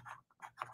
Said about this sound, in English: Let me write that on there.